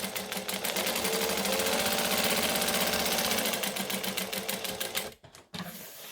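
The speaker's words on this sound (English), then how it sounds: "We're going to stitch and we're going to back stitch." A sewing machine stitches a handbag in a loud, fast, even rhythm, then pauses briefly for the reverse back stitch before running on.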